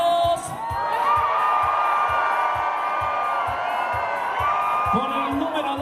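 A crowd at a Falla event in Spain shouts and cheers loudly for contestant number one, a sustained roar of whoops and high yells with children's voices, rising again near the end.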